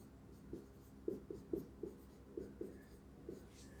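A pen writes an equation by hand, producing soft scratchy strokes in a loose rhythm of about eight short bursts, faint and close, with no voices.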